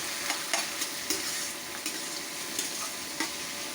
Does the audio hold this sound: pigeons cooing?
no